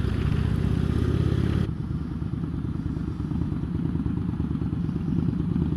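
Indian Chieftain motorcycle pulling away in first gear, a deep rumbling engine with a loud low throb that drops abruptly as wind and road noise take over, steady and close, with no talking.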